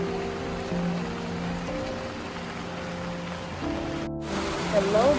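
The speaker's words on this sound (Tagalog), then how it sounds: "Grabe yung ulan dito, parang walang tigil." Heavy typhoon rain pours steadily over the countryside, a dense continuous wash of drops drumming on surfaces, with faint voices and hums underneath and a brief gap near the end.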